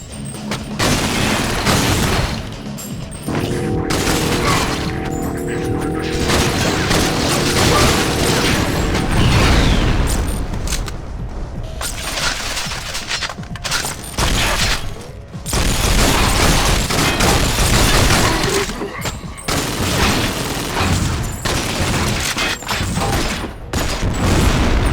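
A ceiling-mounted turret in GoldenEye: Rogue Agent fires near-continuous rapid bursts, loud and close, layered with mechanical whirring and booming impacts throughout.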